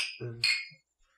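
Glasses of mint julep clink together in a toast, a couple of quick bright chinks close by with a short ringing tail, then quiet.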